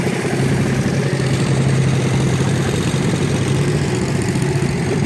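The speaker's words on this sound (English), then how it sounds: "People are riding lawnmowers everywhere." Riding lawnmower engines run steadily at an outdoor old-tractor show, a continuous mid-pitched engine drone with a low idling hum that holds at an even loudness throughout, with no talking.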